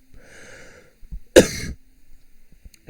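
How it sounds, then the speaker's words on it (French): A single harsh cough bursts out close by, preceded by a short wheezy breath and followed by quiet shuffling. "Si je tousse souvent, c'est normal"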